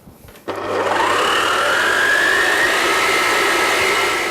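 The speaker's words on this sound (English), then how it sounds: "Whisk in the eggs." An electric mixer whisks egg yolks in a mixing bowl, starting up with a jump in loudness and then whirring steadily and loudly close by, its pitch rising slightly as it runs.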